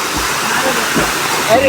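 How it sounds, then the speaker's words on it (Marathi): Rushing water released from a dam flows in a steady, loud wash, with a voice briefly speaking over it. "मे महिन्यामध्ये पाणी वाहत आहे"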